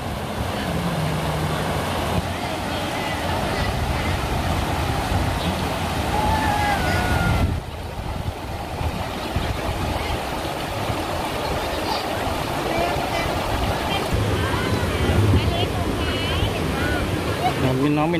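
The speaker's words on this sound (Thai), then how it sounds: "ฟังเสียงน้ำตกครับน้ำไหล" Water pours steadily at Tat Ton waterfall, a continuous broad rushing roar that stays close and even throughout, with a voice now and then over it.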